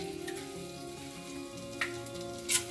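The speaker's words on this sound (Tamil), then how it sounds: "நான் இப்போ ஒரு கடாயில் ஆயில் விட்டுருக்கேன். ஆயில் ஹீட் ஆகிடுச்சு. கடுகு," Mustard seeds crackling in hot oil in a kadai, a steady low frying sizzle with a couple of brief sharper pops, close and fairly quiet, with no speech.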